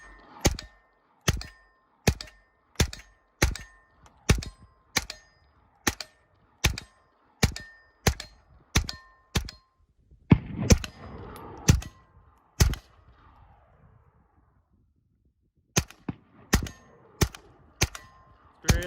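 Repeated gunshots firing Aguila high velocity copper plated ammo, sharp cracks spaced at a steady rhythm, then a pause, a messier burst and a final quick run of shots, with no talking.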